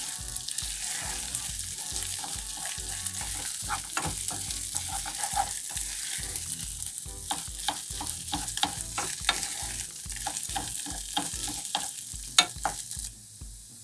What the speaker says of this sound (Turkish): Pirinç salçayla bütünleşene kadar karıştırıyoruz.